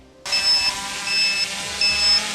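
A drone's low-battery alarm: three repeated electronic beeping bursts over a steady whirring hum, close and fairly loud.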